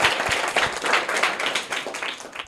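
Audience applause for a student's correct answer in a school classroom quiz, a steady dense clapping from a crowd of children that fills the whole stretch at moderate loudness.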